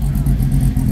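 A Rokon off-road motorcycle engine runs at a loud, close, rough mid-pitched drone with a pulsing rhythm, heard at an off-road event in Sand Hollow Park, Utah.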